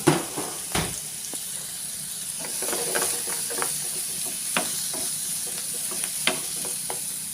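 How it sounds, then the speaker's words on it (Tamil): Pumpkin masala with turmeric sautéing on a low flame, a continuous soft sizzle and hiss with irregular spoon scrapes and taps against the pan, close up and without speech. "ஸோ இது போட்டு ஸ்லோ ஃபயரில் வச்சு அப்படி லைட்டாக வணக்குங்க."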